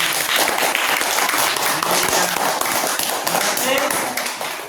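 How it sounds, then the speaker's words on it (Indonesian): Pupils applaud in a classroom after a group activity on unplugged coding, a loud, continuous spatter of clapping that fills several seconds while voices chatter beneath it. "Oke, tepuk tangan."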